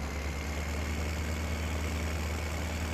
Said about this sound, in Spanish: Ya digo, no sé por qué, pero va mal este tractor